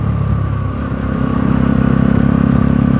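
A motorcycle engine hums steadily and close as it rides along a road near Calamba in Laguna, the low drone rising slightly in intensity partway through, with no talk over it.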